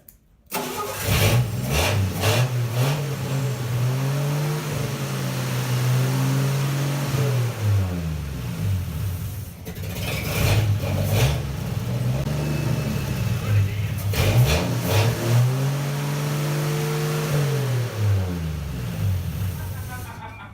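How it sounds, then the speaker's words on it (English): A 1964 Dodge D100 pickup engine, being revived for the road, cranks over and catches, then revs up and falls back in several loud close surges, with voices talking over it at points. "to rev the engine up and then stick a rag on the intake"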